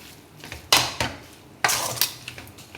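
Chicken with onion, capsicum and masala being stirred in a pan: a spatula scrapes and clanks against the metal in a few distinct strokes, with lighter clinks between them and a faint sizzle underneath.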